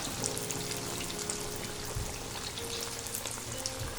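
Cheesy chicken pops fry in hot oil over a medium flame, giving a steady, even crackling sizzle throughout with no talk.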